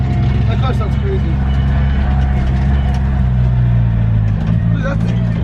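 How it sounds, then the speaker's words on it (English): A drift car's engine drones in a loud, continuous low rumble while driving, heard from close by with steady road noise throughout and faint talk underneath. "That car sounds crazy."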